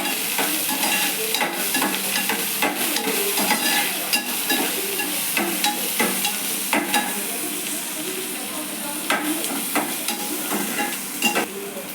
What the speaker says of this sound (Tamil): வெங்காயத்தை கொஞ்சம் நல்லா வதக்கணும்.